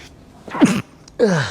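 Two close sneezes in quick succession, loud and abrupt, with brief quiet between them and no talking.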